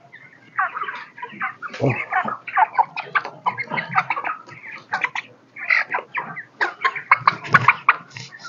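Broiler chickens kept in a fan-cooled poultry house cluck and call in a dense, continuous flock chorus close by, with a short spoken exclamation near the start.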